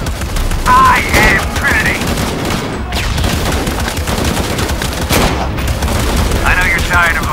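Gunfire in the video game Shadow of the Tomb Raider: loud, sustained bursts of automatic fire crackle steadily throughout, with a voice speaking briefly over the shooting.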